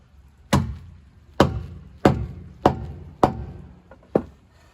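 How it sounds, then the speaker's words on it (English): A wheel weight being hammered back onto the wheel of a 2006 LBZ Duramax truck, six sharp metallic blows struck at a steady, unhurried pace, close and loud, each with a short ringing decay and no talk. "Hammer that back on"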